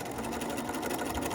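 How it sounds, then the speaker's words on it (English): Sewing machine running steadily while back-stitching a fabric patch pocket, a close, continuous rapid needle whir with no pauses and no voices. "Get down to the bottom, go ahead and back stitch it."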